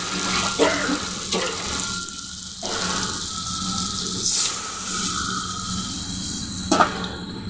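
Curry broth poured into a hot frying pan, making a continuous sizzle and bubbling with several sharp splashy bursts and scraping moments, close and fairly loud.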